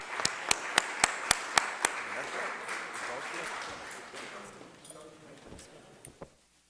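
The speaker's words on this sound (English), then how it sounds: "Another round of applause for Coach Fran Dunphy." An audience gives a round of applause for Coach Fran Dunphy at a mayor's press conference. Some sharp, separate claps come first, then a softer, spread-out clapping that fades away.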